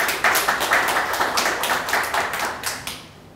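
Close, dense clapping from a small gallery audience welcoming a National Assembly member, a steady rapid patter of many hands for about three seconds before it stops abruptly.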